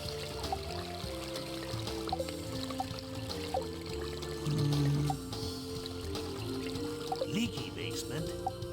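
Water leaking and trickling in a basement in the Legend of Kyrandia video game, with faint steady drips and a dribbling flow over quiet game music.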